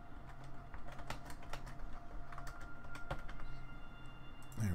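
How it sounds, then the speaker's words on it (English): Steady typing on a computer keyboard at a home desk, a close quick patter of clicky keystrokes in uneven bursts over faint background hum, no talking. "Type that over on my off-screen monitor."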